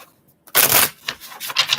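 Tarot cards being shuffled, a soft rustle swelling into a loud riffling burst followed by several shorter flicks, close and alone.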